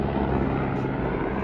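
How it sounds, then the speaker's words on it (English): A police helicopter drones overhead at night, a steady, loud rotor and engine rumble filling the short stretch without pause. "Just in time for the nightly police helicopter flyover."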